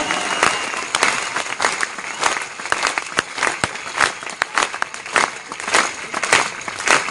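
An audience at a Hindi poetry recital claps in loose, uneven bursts, with individual sharp claps standing out over the wider crowd applause, which swells and dips several times.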